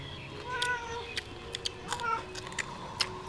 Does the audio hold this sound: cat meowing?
yes